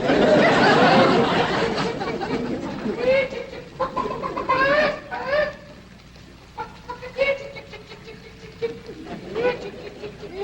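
Chickens cluck and squawk around a large estate in a 1962 comedy, loud flurries at first that then settle into scattered clucks between lines of dialogue.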